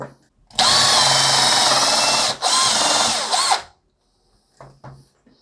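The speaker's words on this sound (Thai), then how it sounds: "เดี๋ยวลองเจาะไม้กันดูนะครับ" A power drill fitted with a resharpened old bit whines at high speed as it bores into wood, a loud burst of about three seconds with a brief dip, then short revving blips.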